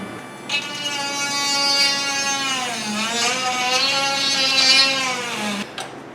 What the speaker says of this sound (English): We'll take a little Dremel tool and I'll egg out the radiator